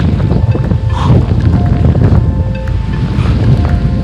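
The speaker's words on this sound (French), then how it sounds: "je rectifie ce que j'ai dit, je suis bien dans une tempête maintenant" Strong storm wind roars through a forest in the Jura, with steady, loud broadband gusting and rumbling buffeting against the microphone throughout, and no speech.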